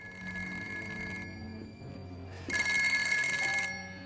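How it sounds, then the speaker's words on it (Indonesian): A telephone bell rings out, with a louder burst of ringing in the middle, over a steady background hum; no voices. "Namun tiba-tiba, sebuah telepon berdering."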